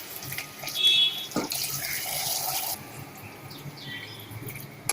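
Measured water, about four cups, poured into a pot of tomato rice, a steady splashing stream running for a couple of seconds, close and moderately loud, then fading into quiet kitchen background.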